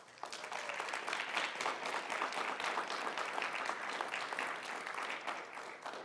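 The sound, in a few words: audience round of applause for the staff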